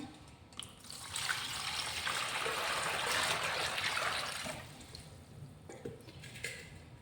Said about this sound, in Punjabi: ਇਹਦੇ ਵਿੱਚ ਆਪਾਂ ਪਾਣੀ ਪਾ ਲੈਣੇ ਆ